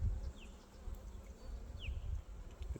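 Honeybees buzz around a backyard hive, a soft, steady swarm hum with a few louder passes of individual bees flying close by, with no voices.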